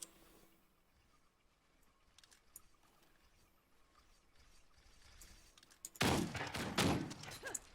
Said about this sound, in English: I'm gonna actually start using the shotgun for a little bit